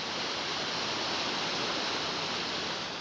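Steady broadband rush of water flowing into irrigation canals fed by snowmelt from mountains, a continuous even wash with no breaks, alone and fairly close.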